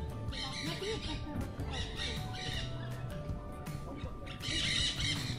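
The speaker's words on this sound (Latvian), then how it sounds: "Dzirdamas putnu skaņas." Birds squawk and call repeatedly in a busy outdoor soundscape during a trip to Poland, their cries mixed with steady background noise and possible murmuring voices.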